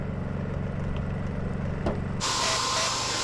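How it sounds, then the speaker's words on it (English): A paint sprayer pushes out a very thick coating, starting midway as a loud, steady broadband hiss that takes over from a low mechanical rumble and continues to the end. "I mean, it's spraying, but it's like a quarter of an inch thick."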